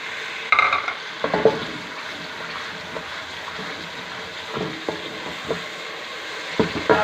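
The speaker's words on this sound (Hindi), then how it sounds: "अच्छे से हम इसको भून लेंगे" Masala with salt and cumin frying in oil for red lobia curry, with a soft continuous sizzle and intermittent clinks and scrapes of a spoon stirring the pan, heard up close.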